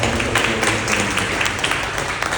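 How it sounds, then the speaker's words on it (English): Applause from an audience at a business improvement district annual meeting in Sunnyside, a moderately loud patter of many hands clapping continuously, with a faint murmur beneath. "Let's give them a big round of applause"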